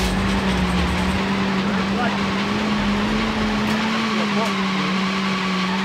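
Road cars racing in MRC (Multi Racing Championship) on the Nintendo 64, with a steady droning engine tone running throughout and some game sounds layered over it.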